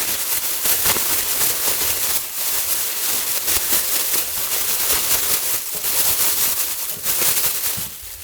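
Sliced eggplant and shiitake mushrooms are shaken with glutinous rice flour in a plastic bag, making a loud, continuous crinkling rustle in rhythmic bursts close to the listener.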